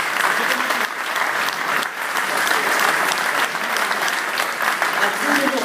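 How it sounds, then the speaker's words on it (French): A crowd applauds steadily and loudly, dense clapping filling the whole stretch without a break. "on peut encore les applaudir"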